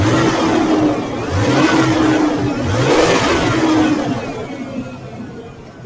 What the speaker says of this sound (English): if I give this just like a little blip of gas